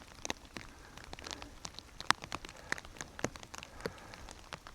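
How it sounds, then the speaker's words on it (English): Rain falls on a hike in the Scottish Borders as a close, steady patter of separate drops, some sharper taps standing out, with no talk. "The rain's coming down a bit heavy now."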